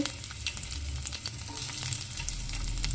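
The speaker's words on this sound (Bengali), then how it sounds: "একটু সাদা তেল দিয়ে দিয়েছি, তার মধ্যে দেব এখানে গার্লিক অ্যান্ড জিঞ্জার" Garlic and ginger frying in a little white oil, giving a steady close sizzle with occasional stirring crackles throughout, no voices.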